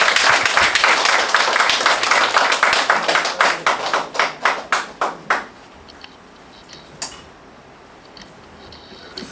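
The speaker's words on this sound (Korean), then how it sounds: "우리 하나님께는 영광의 박수, 우리 전도사님께 격려의 박수를 가져주십시오." A church congregation applauds in a burst that settles into rhythmic unison clapping, the claps spacing out and fading before stopping, followed by near silence with a stray clap.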